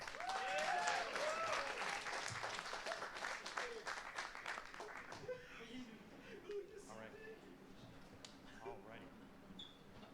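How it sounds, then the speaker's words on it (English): Audience applause at the 2023 Spring BIG EAST Championships, a League of Legends esports event: a dense burst of clapping that gradually thins and fades, with a voice speaking over it afterwards. "Let's give them another round of applause."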